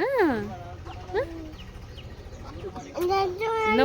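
A chicken clucks in a village home, giving a few rising and falling calls close by while people talk in the background.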